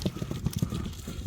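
Hooves of a calm, gentle ulak (goat-polo) horse clip-clop close by in a quick, steady series of soft thuds, about seven steps in just over a second, with no one talking.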